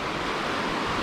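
The White River flows beside a campground near Chinook Pass as a continuous broadband rushing roar, steady and close, with no voices.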